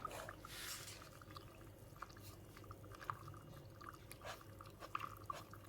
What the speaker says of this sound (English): when you add water to the eco casting powder in that order, it bubbles and sort of fizzes